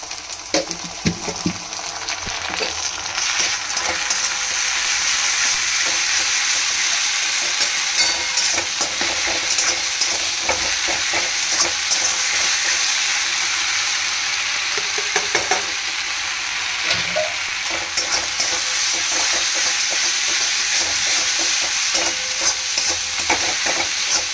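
Spices sizzling and frying in a pan, added for a potato and soy chunk curry, a steady, dense crackle that runs without a break through the whole stretch, loud and close, with occasional stirring and no talk over it.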